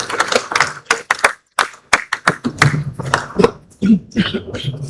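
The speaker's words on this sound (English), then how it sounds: "a resounding round of applause for her" Scattered, uneven clapping from an audience at a regional security summit, swelling into irregular bursts of hand claps with brief lulls, mid-distance in a large hall.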